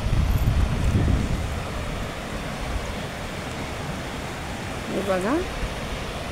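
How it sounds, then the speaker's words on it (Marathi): Water pours into a large pool at the Devkund waterfall near Bhambarde, a steady broadband rush blended with wind, with a voice speaking briefly near the start and another short vocal sound later. "खालून जे पाणी पडतंय ते खूप मोठं असं देवकुंड टाईप आहे"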